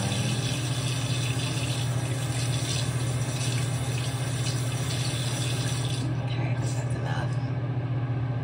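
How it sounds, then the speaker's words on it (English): Water runs steadily from a bathroom tap to wet makeup sponges, a constant close rushing hiss over a low rumble that thins out near the end. "So I'm just gonna wet my beauty blenders."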